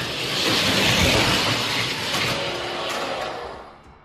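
Hot Wheels diecast cars, including a Formula Solar and a Chevelle wagon, racing down a track, a steady rolling rumble and clatter that swells then fades out over a few seconds.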